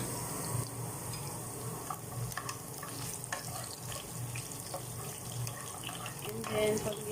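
Garlic stirred and frying in a pan for chicken wings steak style, a steady close hiss of oil with scattered scraping and clinking of the utensil throughout, louder near the end.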